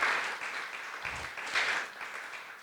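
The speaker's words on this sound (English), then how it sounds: "Let's all give another round of applause for Karen and Craig." Audience at a community assembly applauding, with steady clapping that swells and fades slightly across a few seconds.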